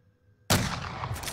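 Gunfire in the video game Call of Duty, a sudden loud blast after a quiet hum, followed by a dense sustained burst that trails on to the end.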